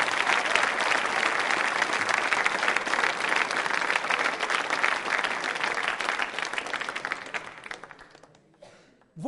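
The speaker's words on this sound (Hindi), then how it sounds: "जोरदार तालियां।" A student audience at a college quiz show gives loud, sustained applause, a thick roar of clapping that holds for several seconds and then fades to near silence.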